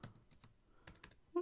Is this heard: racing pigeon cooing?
no